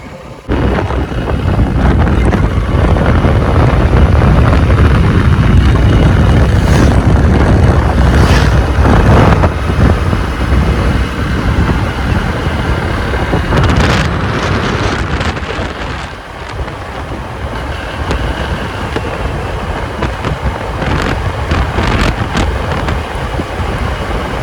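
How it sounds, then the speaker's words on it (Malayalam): Cold wind in Kerala blasts across the microphone as a loud, continuous roar with gusty surges, briefly easing near the middle before building again. "തണുത്ത കാറ്റ് വീശുന്നു."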